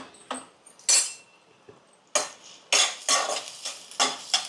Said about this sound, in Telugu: ఈ ఆనియన్స్ ఇప్పుడు ఏంటంటే పింక్ కలర్ వచ్చే వరకు ఇలా ఫ్రై చేసుకోవాలి